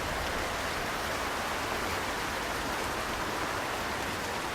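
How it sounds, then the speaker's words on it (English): Rain falls steadily on a pool and roof, a dense, even hiss of drops held at a constant moderate level without pauses or other sounds. "Wind blows a curtain of rain over the water in the pool"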